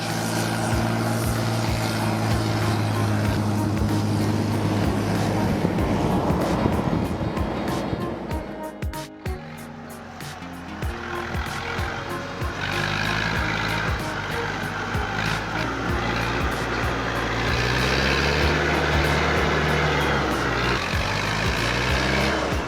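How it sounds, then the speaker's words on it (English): An IMT 550 tractor engine roars steadily while hauling a fully loaded log trailer along a muddy road, a loud continuous drone with a brief dip near the middle and no talk. "Engine roaring, the IMT 550 VO ZI-12 hauls a fully loaded log trailer across the muddy road."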